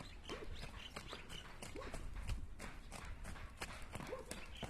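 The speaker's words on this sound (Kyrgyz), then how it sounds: "Ушул ат сатылат, кечеги аттын видеосу." Horse hooves clip-clopping in a steady, repeated rhythm on hard ground, heard fairly close and moderately quiet against outdoor background noise, with no talk over it.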